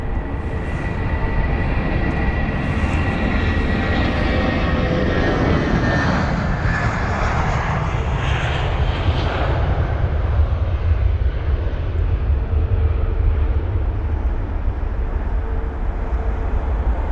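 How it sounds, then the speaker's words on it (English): An Airbus A350-1000 airliner departing Heathrow roars past, its engine whine sweeping downward as it passes, then a broad low rumble lingers and fades. "So the A350-1000 is what we're watching"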